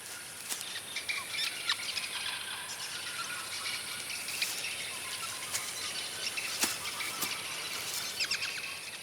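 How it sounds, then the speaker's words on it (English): Many birds twittering together from a single tree holding one giant nest, a continuous dense chorus of high chirps with scattered sharper calls, steady and moderately distant throughout. "The twittering seems to come from a single tree, from one giant nest."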